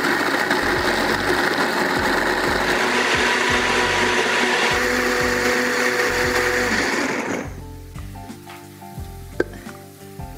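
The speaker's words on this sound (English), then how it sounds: "And now I'm going to turn it on and blend." A blender runs loud and steady, whirring as it purees a creamy vegan carrot alfredo sauce with blonde vinegar, then cuts off near the end, leaving quiet kitchen clatter.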